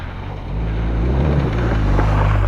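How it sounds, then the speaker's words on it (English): Big trail motorbikes on an October group trail ride, a steady loud engine drone rising after half a second and holding, with wind buffeting the microphone. "Oh, these big bikes, they do sound fantastic, you know."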